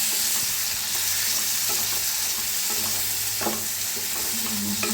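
Yogurt mixed into frying green chillies in a pan, a loud continuous sizzle with a spoon scraping and stirring through the thick mixture.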